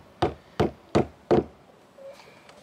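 Four evenly spaced hammer blows knock wooden dowels into a deck board of a timber terrace built on concrete blocks, each a sharp close knock, followed by a quieter clatter.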